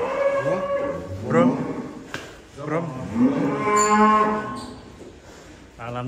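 Giant jumbo cattle bellow in a barn in Central Java, several loud, drawn-out moos following one another up close, with people talking nearby in between.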